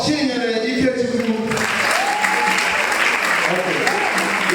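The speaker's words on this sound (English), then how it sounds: "Your clapping is not going to do." Steady, dense applause from an audience at a Florish Africa 2026 event swells in after a brief moment of voices and continues loudly to the end.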